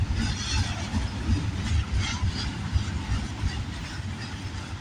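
A Canada Day freight train out of Montreal bound for Vancouver rolls past at Bear, a low steady rumble of wheels and engine at moderate distance with no voices.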